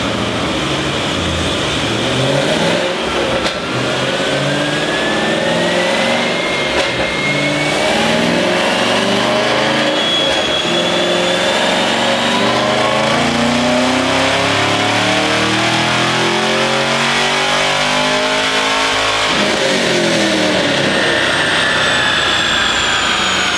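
A Chevrolet Camaro ZL1 engine revs hard and loud, climbing and falling in pitch with sustained roaring and brief lifts between surges, no talking.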